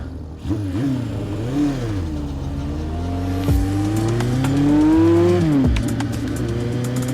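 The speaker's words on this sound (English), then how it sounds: "When I twist that throttle, man, between the sound and the feeling of this motor, this thing is an absolute rush" A 1973 Honda motorcycle engine revs hard as the throttle is twisted, pitch climbing and falling through several loud, close bursts, with no talking.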